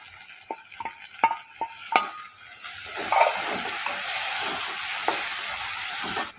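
Chopped onion and tomato sauté in a pan, with a few sharp spoon taps and scrapes at first, then a steady close sizzle and hiss of frying as the vegetables are stirred.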